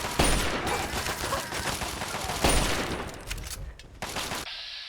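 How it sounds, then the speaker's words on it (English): Rifle gunfire in the video game Fallout 3, a dense, loud burst of rapid shots with little pause over almost five seconds, ending in a sharp final crack. "Doing reasonable damage with this rifle."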